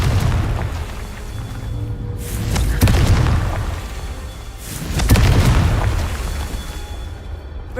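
Two deep fiery explosions from the Confringo spell in Hogwarts Legacy, each a loud rumbling boom with a sharp crack that swells and fades, a few seconds apart, over a steady game background.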